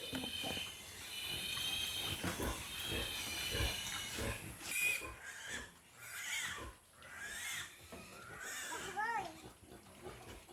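Piglets squealing while being weaned from their sow on a farm, shrill, wavering squeals in bursts with grunting and handling noise, mixed with people talking nearby.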